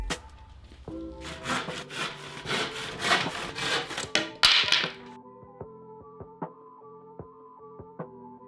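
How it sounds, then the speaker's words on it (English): MDF board being hand-sawn into pieces, a run of rhythmic rasping strokes up close, then a series of sharp taps and knocks as the cut ends. "cut down your MDF into 3 pieces"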